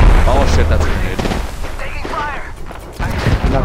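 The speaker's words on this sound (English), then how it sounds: "that's a grenade" A grenade blast rumbles among dense gunfire in an Apex Legends match, loud and booming under overlapping excited voices and in-game speech.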